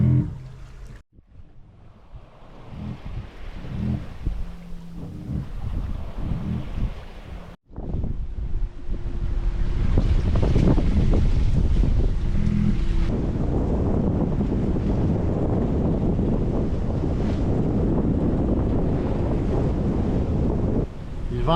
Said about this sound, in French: Il vente autour de 20 nœuds.